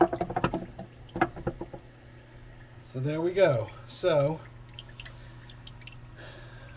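A small waterfall runs inside a knight anole enclosure, its trickle and patter of drips heard near and soft while someone talks over it.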